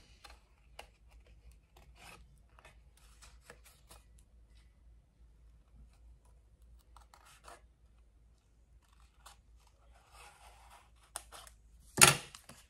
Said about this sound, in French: Et je vais découper la petite encoche ici.